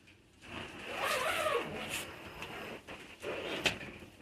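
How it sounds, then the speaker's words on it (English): A zipper being pulled down on the screen panel of a newly unboxed tent, a few scratchy rasping strokes at close range, fairly quiet, with a short gap between pulls. "that zips down"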